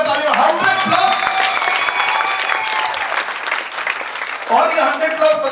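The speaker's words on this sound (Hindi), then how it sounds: "100+ वुमेन मिलेनियर्स, 100+, जोरदार तालियां, 100+" Large audience at a Modicare Go Diamond training workshop in Puri clapping loudly, a dense crowd roar of applause and cheering with a voice speaking over it through much of the stretch.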